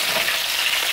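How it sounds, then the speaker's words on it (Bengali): Pieces of catla fish head and tail frying in hot oil, a steady close sizzle and crackle with no talk. "এগুলোকে আমি আস্তে আস্তে করে ভেজে"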